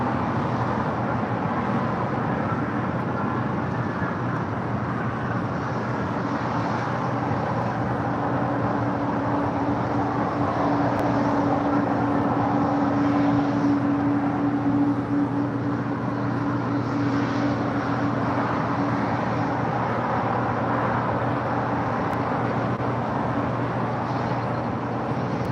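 A United Boeing 757-300 arriving from Denver, Colorado as flight 1093 gives off a steady, loud jet roar throughout, with a sustained engine whine rising in the middle before it fades back into the broad rumble.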